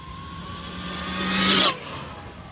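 A small RC car on a 2S battery, with a Power Hobby fan cooling it, drives past. A whining motor tone climbs steadily to a loud peak, then drops off sharply as the car moves away.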